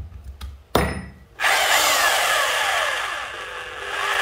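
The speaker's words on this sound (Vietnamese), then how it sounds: "đây là khoan gỗ này" A few clicks and a short burst precede a 220V electric drill in wood-drilling mode, which has variable speed and reverse. Its motor then starts and whines steadily and loudly at close range.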